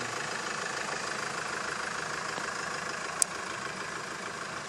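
A 2007 Hyundai H-1 van's 2.5-litre, 125 kW engine idles steadily with a low, even rumble, and a single sharp click sounds briefly partway through.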